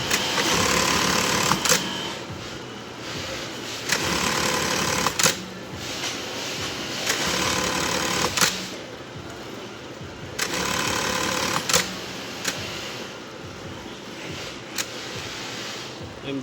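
A Juki bartack industrial sewing machine stitches in repeated bursts of rapid mechanical chatter, each lasting a couple of seconds and separated by short clunks and pauses, loud and close.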